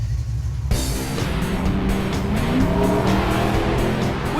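A Ford Mustang GT's V8 engine roars up suddenly and keeps growling under acceleration as the car drives, loud and close with a rumbling low tone.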